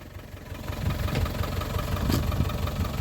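An abandoned Land Rover Discovery 1, left on a farm for 20 years, runs in gear with the clutch working. Its engine gives a steady, rough, low idling rumble throughout, fairly close and with no talk over it.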